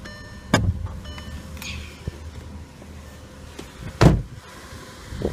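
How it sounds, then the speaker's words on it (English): The hood of a 2010 Volkswagen Jetta SportWagen 2.5 SE is popped open, a couple of sharp metallic clunks and latch clicks with quiet handling noise in between. "and we'll pop the hood"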